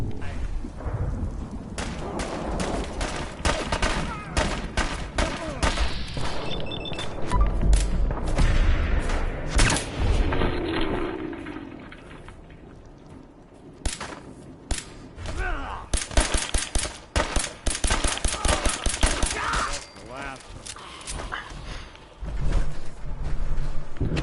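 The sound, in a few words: gunfire from Fallout 4 video game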